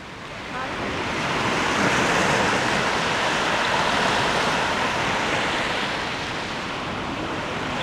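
Surf breaks continuously on a tropical beach at the base of Diamond Head in Hawaii, a dense, steady wash of waves with some wind noise on the microphone.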